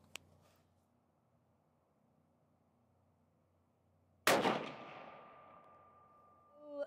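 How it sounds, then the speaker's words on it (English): A single sharp rifle shot from a Sako S20 Hunter while sighting in, loud and close with a long ringing echo trailing off over a couple of seconds after a quiet pause. "We're gonna take another shot and hopefully it'll be dead center."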